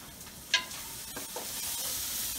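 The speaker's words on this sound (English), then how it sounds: "I'm going to let these onions cook down for about 7 minutes" Onions sizzle and cook down in a pan, a soft, steady frying hiss with a sharp clink and a few stirring scrapes early on, the sizzle building slightly toward the end.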